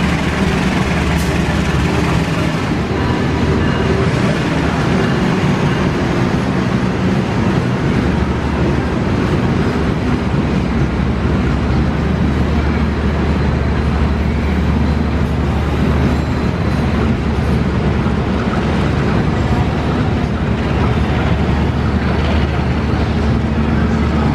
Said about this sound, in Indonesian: KA1 sebentar lagi juga akan melintas stasiun Jayanegara melewati jalur 4